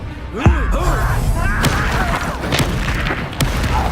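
Confringo fire spell blasts in Hogwarts Legacy, several sharp bursts scattered through a busy battle with voices shouting over them.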